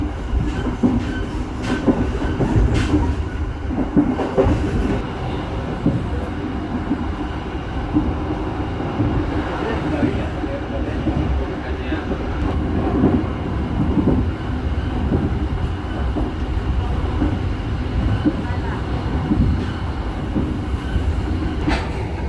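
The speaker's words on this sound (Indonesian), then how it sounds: "kereta api Tegal Bahari diberangkatkan kembali dari stasiun Cikampek." The Tegal Bahari economy-class passenger train departs Cikampek station in Indonesia, rumbling steadily along the tracks with a continuous low roar and faint clickety-clack of wheels, loud and close throughout, no voices.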